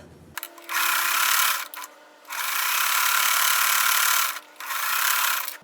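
A sewing machine runs at fast speed stitching fabric scrap strips into quilt blocks, giving three long, loud, steady whirring runs separated by brief pauses, close up and without talking.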